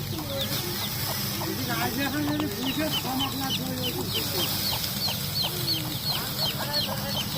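A flock of chickens clucking and chirping continuously, many overlapping calls close by with a busy farmyard background.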